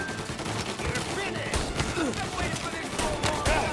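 Bursts of Tommy gun fire in the Mafia Definitive Edition video game, rapid automatic volleys crackling through a busy, loud firefight with overlapping shots and clatter throughout.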